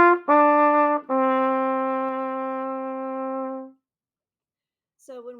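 A solo trumpet plays a few sustained notes, the last held long before fading, then a brief new note starts after a pause.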